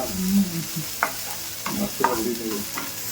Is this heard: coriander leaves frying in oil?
yes